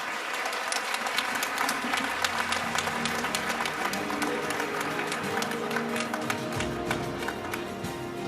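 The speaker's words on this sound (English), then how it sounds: "Another round of applause," An audience at the launch ceremony of the Nelson Mandela Children's Hospital gives a sustained round of applause. Dense, steady clapping fills the whole stretch, with a faint murmur of the crowd underneath.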